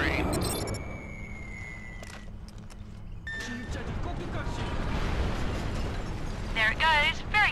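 Bombs explode in the Mercenaries video game as deep, rumbling booms rolling under a dense bed of game sound, with sharp bursts near the start and warbling tones rising near the end.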